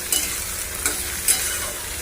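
Potatoes sizzle in hot oil in a pan seasoned with nigella seeds and a dried red chilli, giving a continuous close frying hiss with a few soft scraping stirs and no talk.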